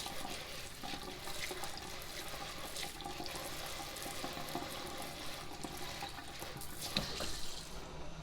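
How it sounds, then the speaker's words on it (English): Tap water runs steadily over yams being washed in a kitchen sink, a continuous splashing rush with small knocks and clinks. "after you wash the yams"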